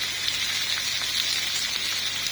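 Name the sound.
chicken breast strips sizzling in a pan with onions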